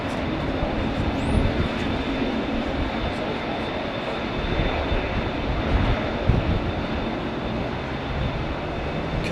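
A Boeing 777 jet airliner roars at Heathrow Airport, a loud, steady, broadband engine rumble that holds for the whole stretch with no voices.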